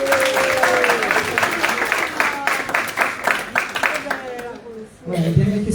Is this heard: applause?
yes